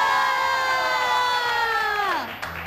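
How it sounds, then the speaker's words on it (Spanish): A crowd cheers loudly, whooping and shouting together, with a sustained high tone gliding downward over the noise. "un aplauso fuerte"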